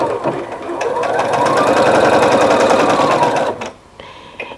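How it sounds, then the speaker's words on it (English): A sewing machine stitches a 1/4 inch seam through quilt binding on a large quilt, running in one steady, loud whir for about three and a half seconds before stopping. "you're going to stitch a 1/4 inch seam on all of these"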